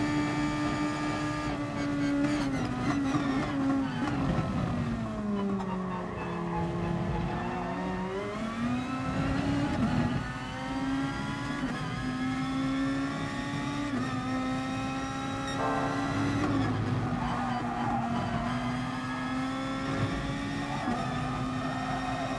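A race car engine in Gran Turismo Sport holds a loud, continuous drone while racing in a slipstream. Its pitch dips and climbs as the car brakes and accelerates through corners, with no talking over it.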